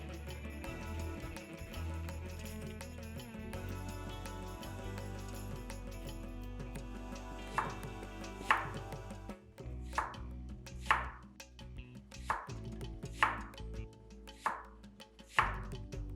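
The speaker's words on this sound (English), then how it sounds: "peel the skin off, then de-seed this and cut this into little pieces" Yellow cucumber cut into little pieces on a board, with background music at first, then a run of distinct knife chops about one per second, close and crisp, and no voices.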